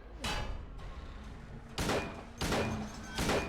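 Gunshots during a Silent Hill 2 boss fight: four loud, booming shots spaced about a second apart, each with a short echoing tail, close up with no talking between them.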